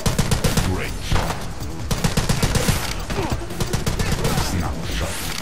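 Rapid automatic gunfire in the shooting video game The Club, a dense continuous stream of loud close shots with brief pauses, over busy game sound.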